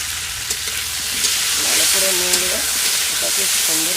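Khichuri ingredients fry in mustard oil in a pan, a dense, loud hiss of sizzling with faint clinks, while a voice speaks briefly underneath.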